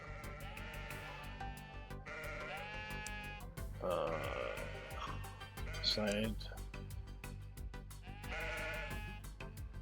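Sheep in the video game Necesse bleat repeatedly in overlapping calls from a large penned flock. The bleats are fairly close and sit under a steady game background, with a voice briefly speaking over them.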